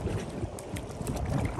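A boat plows through rough waves while riding, a brief burst of rushing water and wind buffeting with splashy bursts, loud and close.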